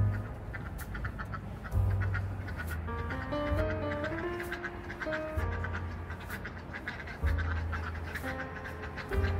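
Ducks quack outdoors while snow falls, several raspy calls overlapping at a moderate distance, with louder bursts recurring every couple of seconds through a continuous background of outdoor noise.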